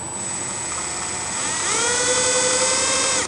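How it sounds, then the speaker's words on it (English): A drill bores a small pilot hole into a window regulator bolt on a 2005 Cadillac STS, giving a steady high-pitched whine that climbs in pitch as the motor speeds up, loud and close, with no voices. "I should be able to drill into that pretty easy."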